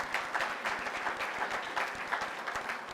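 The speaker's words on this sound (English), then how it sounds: "Give them a round of applause" Steady applause from an audience of East Hill staff and guests at a Missouri Western State University video board press conference in St. Joseph, dense clapping at moderate distance without talk.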